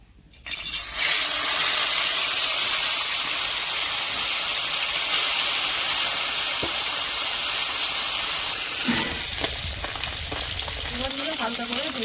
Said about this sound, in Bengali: তেল গরম হয়ে গেছে এবার কই মাছ ছেড়ে দিচ্ছি